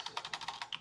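Quick, even typing on a computer keyboard: about eight light key taps in under a second, close and fairly quiet, with no speech.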